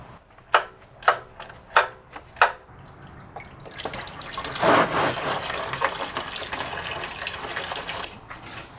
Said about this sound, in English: this is draining out the lower coolant hose